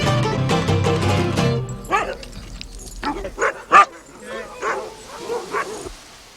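Huskies bred for Alaskan sled racing bark and yip in a loud burst at the start, then give scattered sharper barks and whimpers that fade toward the end.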